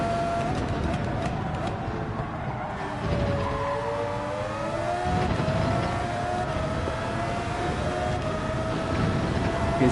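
A racing car engine in a Nation's Cup racing game drones steadily, its tone sliding and shifting pitch midway through, continuous and loud with no talking.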